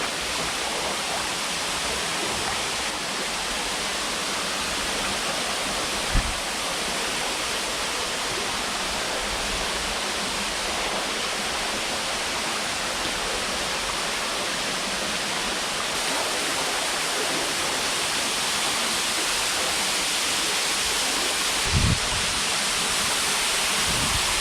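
The Goa Rang Reng waterfall in Gianyar roars as a steady broadband wash of falling water, loud and unbroken, with a couple of brief knocks near the microphone.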